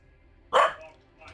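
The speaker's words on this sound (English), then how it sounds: "No woofing. Stop it." A single short dog bark, close and sharp, rising out of near silence with a faint softer yelp trailing after it.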